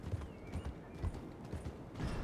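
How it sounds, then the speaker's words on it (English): Horse hooves clip-clop steadily in a ranch roleplay video game, a quiet rhythmic plodding under a low background hum. "There's a horse here."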